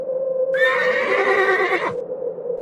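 A horse, startled by wind, gives one loud, close whinny lasting just over a second, rising and wavering over a steady low tone, with no voices.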